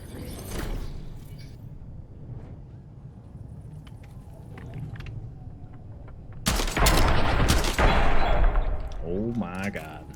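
Shotgun blasts and other gunfire erupt in a Black Ops 7 Search and Destroy match. Scattered distant shots and thumps lead into a loud cluster of close blasts midway, with players talking over the game audio.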